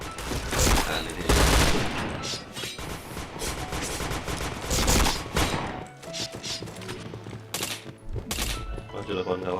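Rapid gunfire from the shooting game PointBlank, dense bursts of shots and clattering fire filling the whole stretch, loud and close, with game sounds and some voice underneath.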